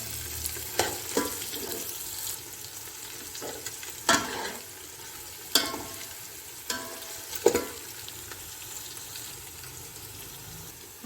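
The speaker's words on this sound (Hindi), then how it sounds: "इसी में जाएगा अदरक और लहसुन, 2 बड़े खाने के चम्मच। इसको भी थोड़ी देर के लिए कुक करूँगी।" Ginger and garlic fry in a pot with a low, steady sizzle, punctuated every second or so by spoon knocks and scraping against the pot; quiet and close, no voices.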